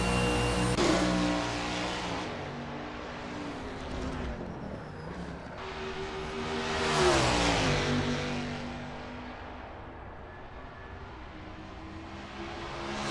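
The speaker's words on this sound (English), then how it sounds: "the sounds of cheering fans should just barely be audible over the roar of the engine" Roaring V8 of an 1989 Chevrolet Camaro Z28 IMSA GTO race car at Watkins Glen in a racing game, loud and continuous with rising and falling revs through gear changes, swelling to a peak midway before easing.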